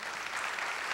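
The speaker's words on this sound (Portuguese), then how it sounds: "O aplauso é para você em primeiro lugar." Applause from a church congregation at a Catholic gathering, a dense, steady patter of many hands clapping throughout, fairly close and with no voices over it.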